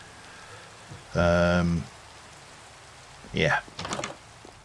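Steady rain hisses in a video game, a soft constant wash under a brief ringing tonal chime and a short spoken word.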